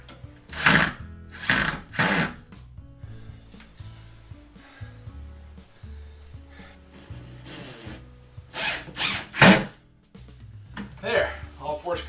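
A power drill driving short screws into the track of a mirrored sliding closet door, several loud whirring bursts of a second or so each, separated by pauses, with someone talking in between.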